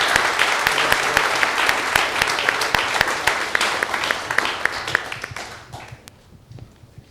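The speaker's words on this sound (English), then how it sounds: "Let's give them both a round of applause." An audience at a board meeting gives a round of applause, dense clapping close by that holds steady, then thins to a few scattered claps and fades out near the end.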